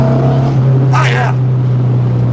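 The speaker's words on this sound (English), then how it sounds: "Third gear pull, full off throttle. A little bit of a decel pop, but that's fine." A 1970 VW with a 1915cc engine and dual 40 carburetors pulls steadily in third gear as a loud, constant drone. A brief crackle in the middle could be the deceleration pop, and a voice may be underneath.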